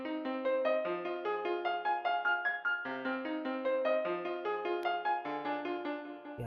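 A melodic synth line played in FL Studio, with delay, reverb and EQ cutting highs and lows, for a beat: steady stepping notes in a loud, continuous phrase with no voices.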